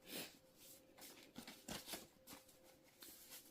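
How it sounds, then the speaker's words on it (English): A deck of affirmation cards is shuffled by hand, quiet rapid riffles and flutters in several short bursts with small gaps between them, close and soft. "Been able to shuffle these affirmation cards without any issues."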